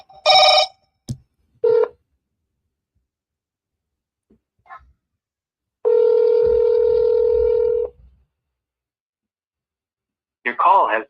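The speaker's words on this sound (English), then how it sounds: "Let's call Jared" An outgoing phone call: a burst of keypad dialing tones, then a ring, followed by a short silence and a longer tone.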